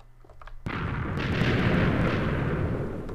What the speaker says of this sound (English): Just some harmless TNT explosion.